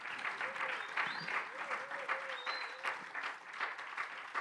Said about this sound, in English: Please give a resounding, warm round of applause to our panelists.